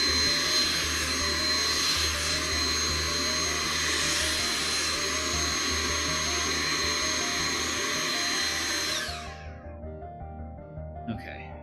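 Vacuum cleaner cleaning computer parts runs loud and steady with a high whine, then switches off and winds down near the end, leaving faint handling noise and a voice.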